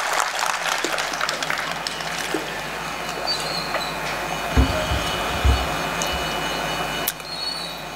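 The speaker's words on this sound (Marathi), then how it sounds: "एकदा राजूरकरांसाठी टाळ्या वाजवा." A crowd at a political party-joining rally in Rajur claps, a steady patter of applause that carries on through the whole stretch and is heard from some distance.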